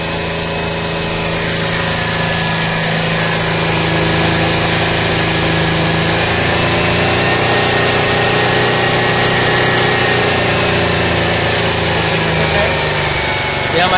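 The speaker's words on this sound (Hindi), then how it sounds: "गाड़ी का रेस पकड़ के रखे हैं इंजन गर्म करने के लिए" A Skoda Fabia engine held at steady high revs to warm it up, a continuous loud drone with a steady harmonic hum lasting throughout, no talk over it.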